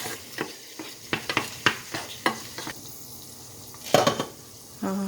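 A bay leaf goes into hot oil in a pan for Kerala-style chicken stew, giving a soft sizzle under a series of sharp spoon clinks and scrapes against the pot.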